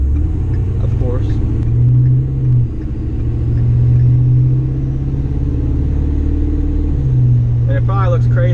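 A lifted Ford F250 with a BDS lift kit drives over potholes, heard from inside the cab as a loud, steady engine drone and low road rumble, with a brief voice near the end.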